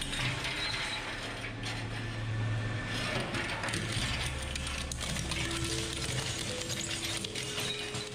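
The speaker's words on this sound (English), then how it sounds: "The AZ50HD metal shredder, with its unrelenting 62mm triple hook blades, is here to destroy even the toughest IBC steel cages." AZ50HD metal shredder with 62mm triple hook blades tearing through IBC steel cages, a loud continuous grinding and ratcheting metallic churn with heavy mechanical rumble.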